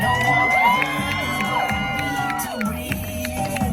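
An audience at a seaside magic show cheers and whoops loudly, a dense crowd roar with high shouts rising over it, sustained throughout.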